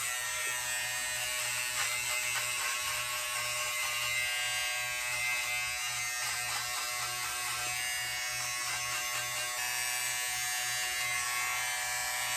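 An electric beard trimmer cutting a mustache, a steady close high-pitched buzzing hum that runs continuously with slight fluctuations as it moves over the hair.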